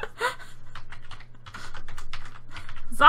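Steady rapid typing on a computer keyboard, a dense run of close clicking keystrokes continuing without pause while two people play Plague Inc, with breathing faintly underneath.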